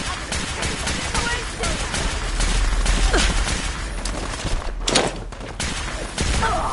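Dense bursts of gunfire from a firefight in the video game Fallout 4, rapid shots layered over a busy mix of combat noise and raised voices, continuous and fairly loud throughout.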